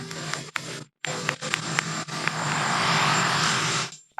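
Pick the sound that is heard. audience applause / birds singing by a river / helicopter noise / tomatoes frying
helicopter noise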